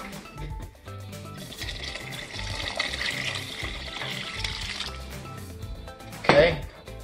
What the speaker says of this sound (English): Now we're just going to add some hot water in here.